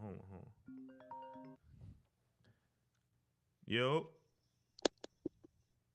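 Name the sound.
phone ringtone of an incoming call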